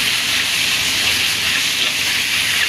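Ginger, garlic and onion sizzle and fry in oil with bay leaf, likely alongside chicken, giving a steady, loud, unbroken hiss with no pauses.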